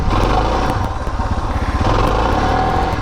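A Suzuki DR650 dual sport motorcycle engine drones loudly and close up while riding on the highway, a steady throbbing single-cylinder pulse with a slight dip in pitch midway.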